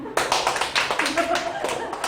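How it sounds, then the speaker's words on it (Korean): An audience at a lecture claps, a close burst of many hands with uneven, rapid claps that swells and holds briefly, with speech overlapping. "또 박수 치라고 막 강요하시네요"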